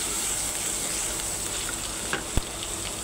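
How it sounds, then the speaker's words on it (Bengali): Garlic paste frying in oil in a wok, a steady hissing sizzle held close throughout, broken by a couple of faint stirring clicks near the end. "এগুলো দিয়ে একটু রসুনটা ভাজা ভাজা"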